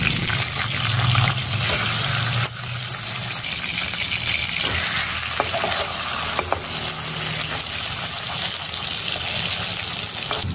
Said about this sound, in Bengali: তেলটা গরম হয়ে যাওয়ার পরে আমি 2 টুকরো মাছ একসাথে দিয়ে দিয়েছি ভাজার জন্য।